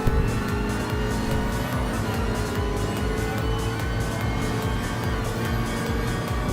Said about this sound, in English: That's a handbrake.